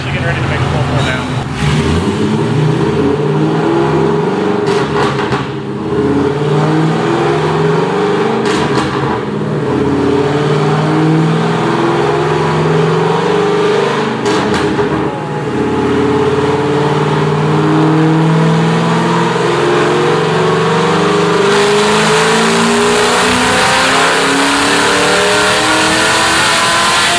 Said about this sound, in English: So we're actually getting ready to make a full pull now.